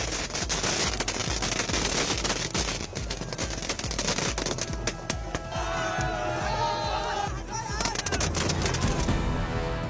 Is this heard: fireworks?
yes